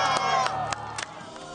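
A crowd of onlookers at a military honor guard display by the Cheong Wa Dae fountain bursts into brief cheering and clapping, with raised voices and sharp claps over a busy outdoor background.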